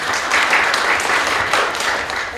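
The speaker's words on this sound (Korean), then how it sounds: "박수 부탁드립니다." Steady applause from an audience at a Gyeongnam civic debate forum, continuous dense clapping that holds at an even level throughout without any talk.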